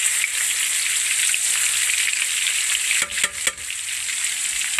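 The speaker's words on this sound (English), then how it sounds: "schnitzels, when they're frying, they're still wet with the oil" Schnitzels fry in hot oil with a steady, loud sizzle and crackle throughout, close up, broken near the end by a few brief clatters as the pan is handled, with no talk.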